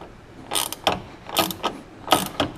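A nut spins down on a Porsche 944 rear sway bar, giving three bursts of rapid ratcheting clicks spaced about three quarters of a second apart, close and fairly loud.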